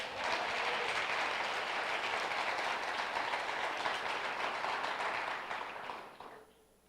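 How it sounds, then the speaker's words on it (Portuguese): Sustained church audience applause, a dense steady wash of clapping lasting several seconds before tapering off and fading out near the end, with no talking over it. "Dê um aplauso a ele."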